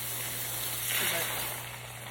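A short, close burst of pressurized water spray on plants hisses, swelling and then easing off, with no voices.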